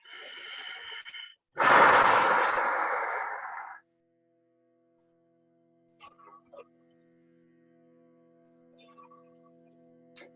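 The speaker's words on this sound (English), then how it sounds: "Taking a deep breath in." A single deep inhalation during a guided meditation, a long close breath swelling and fading over a couple of seconds, followed by near silence with faint soft ticks.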